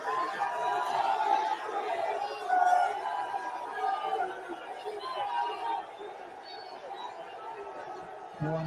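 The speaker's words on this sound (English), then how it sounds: "I suspect you can tell by the reaction of the crowd. Lionel Messi has arrived" A crowd at the Ballon d'Or 2023 ceremony reacts with chatter and scattered cheering as Lionel Messi arrives, a continuous murmuring hubbub that swells briefly and then settles, heard from a distance.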